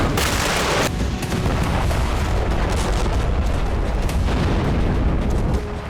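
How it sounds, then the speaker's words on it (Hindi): Explosions from Iskander and North Korean missiles striking Kyiv, a dense continuous barrage of booming blasts and crackling impacts, loud and sustained with no speech. "कीव में इस्कंदर और उत्तर कोरिया की मिसाइलों से ताबड़तोड़ विस्फोट शुरू हो गया।"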